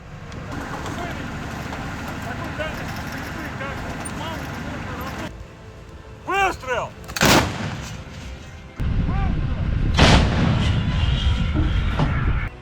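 Several heavy artillery blasts from a self-propelled howitzer firing high-explosive fragmentation shells, loud booming reports at close range separated by pauses, over a constant rumbling engine and background noise.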